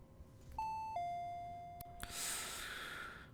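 A two-tone doorbell chimes once, a clear ding followed by a lower dong, then fades under a soft rustling hiss in a quiet indoor room.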